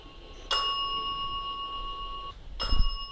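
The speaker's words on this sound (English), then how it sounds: "There's that bell." A bell strikes twice, about two seconds apart, each with a bright ringing tone that hangs and slowly fades, in a hallway of the Indiana State Sanatorium, a former tuberculosis hospital.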